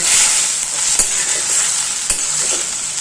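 Ivy gourd stir-frying in a hot pan, a steady bright sizzle running throughout with a couple of sharp scrapes or stirs cutting through, close and loud.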